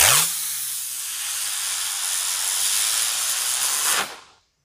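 A Diwali firework burns with a loud, steady hiss for about four seconds, its bright rushing spray cutting off abruptly at the end.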